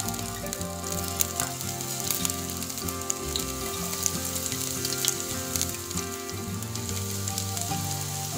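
Finely chopped garlic fries in about four spoons of hot oil in a pan, for a chicken chili dish, giving a steady close sizzle with crackling pops throughout, and no one talks.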